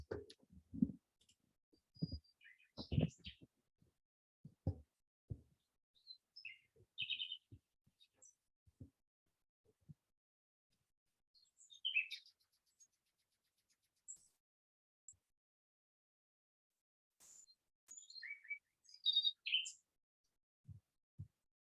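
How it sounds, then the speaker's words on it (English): Faint, distant nightingale song, played back as a recording: scattered high chirps and warbling phrases with soft low thumps, quiet overall with long gaps between bursts. "this is like a 3-hour video of just nightingales chirping"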